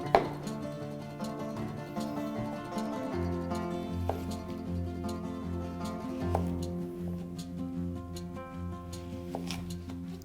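Knife chopping zucchini into 2 cm cubes on a cutting board in a school-meal kitchen, a steady series of quiet, crisp taps over a low background hum.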